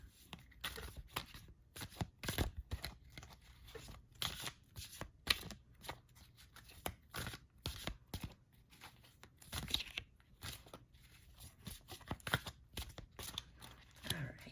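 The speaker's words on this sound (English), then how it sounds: "Let's just go ahead and start shuffling the cards." Tarot cards are shuffled over and over, quick papery riffles and snaps coming in irregular bursts, close and soft, with no voices.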